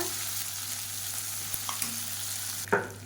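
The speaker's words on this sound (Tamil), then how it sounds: "இப்போ கடுகு நல்லா வெடிக்க ஆரம்பிச்சிருச்சு" Mustard seeds splutter in hot oil while being tempered for a radish chutney, giving a steady frying hiss with scattered small pops and one louder crackle near the end.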